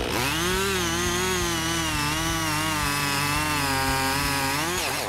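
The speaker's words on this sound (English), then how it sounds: "the Husqvarna 55 chainsaw easily felled a large poplar tree with a diameter of more than 90" A Husqvarna 55 chainsaw cuts through a large poplar trunk more than 90 centimetres across, its engine roaring loud and close at high revs with a steady, slightly wavering pitch throughout.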